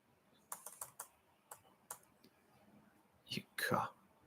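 Keys clack on a computer keyboard in a quiet room, a handful of sparse, separate taps followed by a short quick burst of typing near the end, with a soft whisper-like voice faintly underneath.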